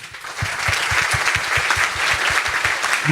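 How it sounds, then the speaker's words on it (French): A room full of people clapping steadily at an innovation awards evening, loud and continuous, with individual claps audible near the front. "Nous pouvons l'applaudir à nouveau."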